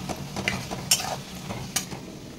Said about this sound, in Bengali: এখনও এখানে ভাজছে কিছুটা